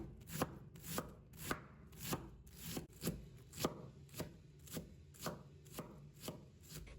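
A kitchen knife dices onion into small pieces on a cutting board, about a dozen evenly paced, crisp chops close by with no talking.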